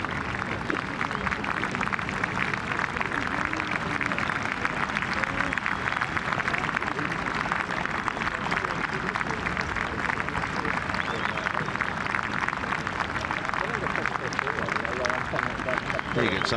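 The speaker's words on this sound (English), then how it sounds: "The crowd start to applaud." Crowd applause rises around the 18th green during the final round of the 124th Open Championship golf, with John Daly playing. It is a dense, steady wash of clapping that carries on throughout, with a commentator talking over it.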